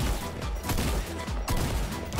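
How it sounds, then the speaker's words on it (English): Rapid bursts of Fortnite gunfire rattle almost continuously at a UFO, dense overlapping shots with a few distinct louder cracks in the mix. "Oh, they're shooting my UFO."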